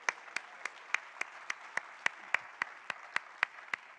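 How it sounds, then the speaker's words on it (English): A single pair of hands clapping at a conference for the staff, about fourteen sharp, evenly spaced claps, fairly faint and close, with no other voices. "let's give them a round of applause"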